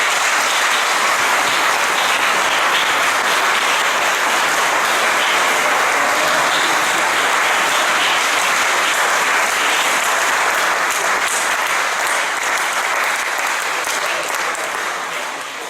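Sustained applause from a crowd at a volleyball team presentation event, dense and steady clapping throughout at close range, tapering slightly near the end.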